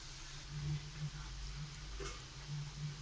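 Milk-and-flour langcha sweets fry in oil over raised heat, a low, fairly faint bubbling sizzle with gentle stirring strokes and a steady background hum.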